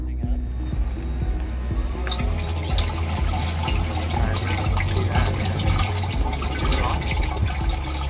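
An M4 agitator pump churns fluid at maximum flow, a loud, continuous close-up rush and gurgle of turbulent liquid with steady mechanical hum underneath, surging as the flow kicks up partway through.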